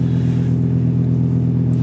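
An old car's engine idles steadily at close range, a constant low rumble with a faint harmonic hum and no change in pace, on a cold winter afternoon.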